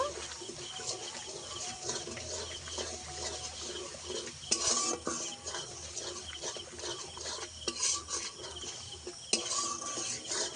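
Yogurt gets stirred into spices and potatoes in a pan over low heat, with repeated scraping and clinking of a spoon on metal, while birds coo faintly in the background throughout.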